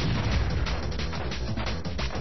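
Bombs detonating in the Super Bomberman video game, a dense run of loud crashing, popping blasts that overlap continuously with no pauses.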